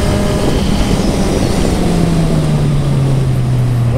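A Kawasaki Z1000 motorcycle engine drones loudly and steadily, its pitch gradually rising as it accelerates, with heavy wind rumble throughout.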